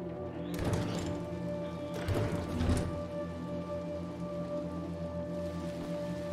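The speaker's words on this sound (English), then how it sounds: "And it's raining pretty heavily." Rain patters steadily over a low humming drone in the video game Little Nightmares II, with a couple of louder splashing bursts early on and no voices.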